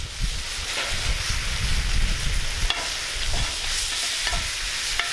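A tomahawk steak sizzles over an outdoor firepit, a steady crackling hiss with occasional pops and bursts of wind noise against the microphone.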